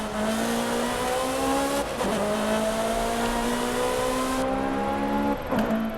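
Car engine in the video game Forza Horizon 5 accelerating hard through gear changes, a loud, close, rising whine that drops briefly at each shift before climbing again, with no talk.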